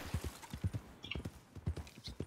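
Horse hooves clip-clop steadily in Red Dead Online, a close, even rhythm of soft thuds repeating through the whole stretch with no other sound on top.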